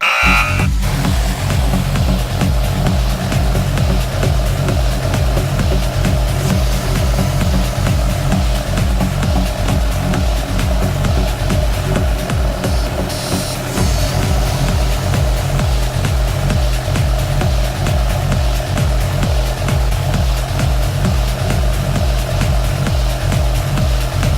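An engine runs with no oil during an oil additive test, a continuous loud mechanical drone with a buzzing, rattling edge that stays steady throughout, with a brief dip midway.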